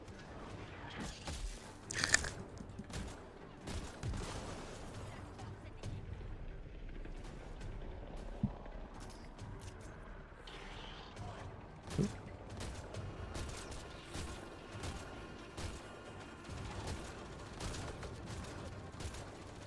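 Rapid gunfire and grenade blasts fill a video game firefight on Eos, with a steady stream of fairly quiet shots and occasional sharper bangs.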